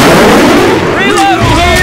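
Video game gunfire during a versus match on a bridge in Parish: a loud continuous burst of shots and booms filling the short stretch, with a warbling effect layered on top.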